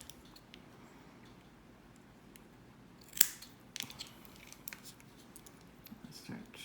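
Scissors trim cotton wick for a Kensei 24 RTA vape build: a few quiet, crisp snips close by, one sharper cut standing out, with faint rustling between them.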